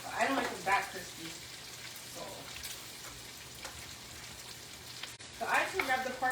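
Pork belly browning in hot oil, a steady low sizzle that runs under someone speaking at the start and end of the clip.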